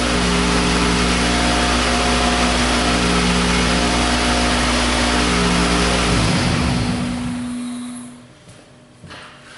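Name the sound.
Toyota engine running after brake cleaner sprayed into throttle body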